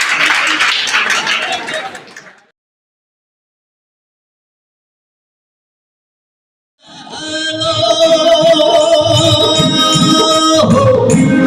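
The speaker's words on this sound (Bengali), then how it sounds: "জোরে একটা হাততালি।" An audience at the Akkelpur round of a Joypurhat singing competition gives a short burst of loud applause that fades out after about two seconds, followed by silence and then music.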